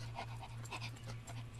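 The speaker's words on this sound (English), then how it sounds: "Those are two very horny dogs." Two dogs in a comedy film scene pant rapidly and rhythmically close up, with a steady low hum in the background and no talking.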